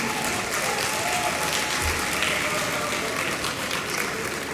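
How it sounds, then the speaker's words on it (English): Steady, dense applause from a conference audience at a PR knowledge-sharing event, even and sustained throughout with no break. "A round of applause for them all"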